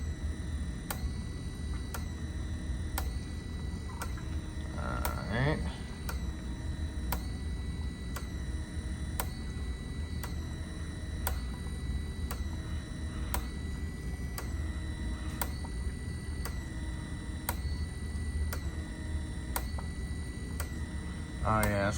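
A fuel injector cleaning machine reverse-flushing injectors from a 1998 Galant runs with a steady mechanical hum and sharp, evenly spaced clicks about every second, continuing for the whole stretch.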